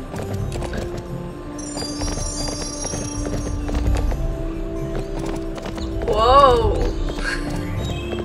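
Horse hooves clip-clop steadily in the video game Barbie Horse Adventures, with a whinny rising near the end over tinkling game music, while a voice talks over them.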